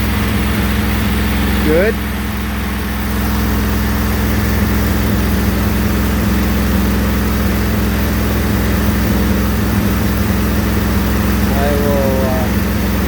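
A Briggs & Stratton replacement engine runs at a steady idle throughout, a continuous mid-low drone close by, with someone speaking briefly over it.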